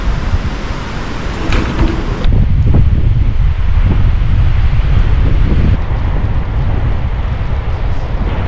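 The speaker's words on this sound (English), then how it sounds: "Wind's about 50 knots" Strong wind at Orewa beach, around 50 knots onshore, roaring loudly and continuously into the microphone with heavy buffeting rumble and gusts, no voices.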